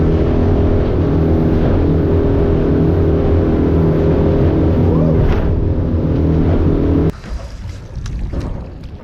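An outboard boat engine runs loud and steady while the boat holds over a rock on a remote coast, then cuts down abruptly as it is snapped into reverse, leaving a lower, choppier idle.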